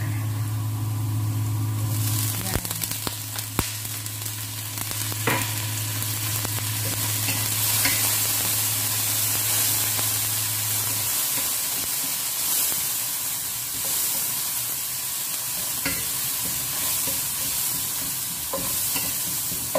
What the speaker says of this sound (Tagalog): habang medyo nasusunog yung kanyang garlic guys, maglagay tayo ng konting water